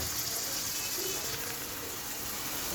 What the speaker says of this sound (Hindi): इस पॉइंट पे इसमें डालेंगे हम आधा कप पानी